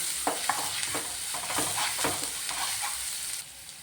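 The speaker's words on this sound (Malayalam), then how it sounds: "ഒരു സ്പൂൺ ഇഞ്ചി വെളുത്തുള്ളി പേസ്റ്റാണ് അത് ചേർത്ത് കൊടുത്ത് നന്നായിട്ടൊന്ന് മൂപ്പിച്ചെടുക്കണം" Ginger garlic paste sautés in hot coconut oil, giving a continuous close sizzle broken by repeated scraping taps of stirring, with the frying easing slightly near the end.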